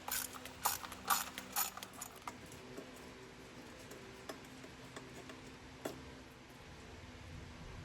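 A ratchet wrench loosening valve cover bolts on a 1985 Chevy Caprice gives a burst of quick clicking near the start, then sparse single clicks and clanks, close and quiet with no speech.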